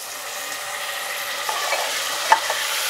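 Chopped tomatoes and onions fry on a high flame for a bottle gourd curry, giving a soft continuous sizzle with a few light stirring scrapes and one sharper clink near the end.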